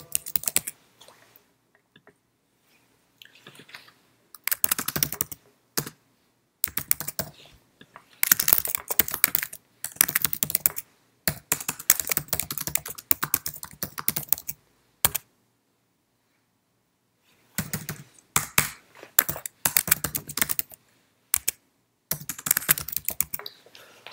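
Computer keyboard typing in bursts of rapid keystrokes separated by pauses, with long stretches of silence in between, close and fairly clear, while an email is composed in Outlook on Office 365.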